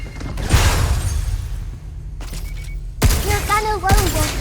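Gunfire and impacts in the Pragmata demo, loud bursts of shots and booming hits over game effects, with in-game voices speaking between volleys.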